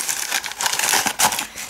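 A small plastic packet shifting and crinkling inside a cardboard box as it is shaken, giving close, quick bursts of dry rustling with brief pauses between them.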